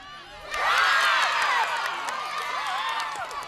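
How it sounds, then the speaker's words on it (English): Crowd at a women's netball grand final in Kwikila cheering and shouting, high excited voices and whoops swelling suddenly and holding loud before easing slightly. "the crowds even got vocal on the side while supporting their favorite team"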